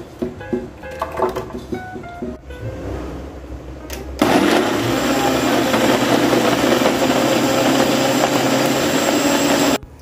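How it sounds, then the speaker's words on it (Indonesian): A kitchen blender purees lemongrass, shallots, onion, garlic, galangal, ginger and dried chili for sambal ayam, starting after a few seconds of clattering and then whirring loud and steady until it stops near the end. "So yang ni bahan-bahan yang kita nak blend, kita ada sikit serai, bawang merah, bawang besar, bawang putih, sikit lengkuas dan halia."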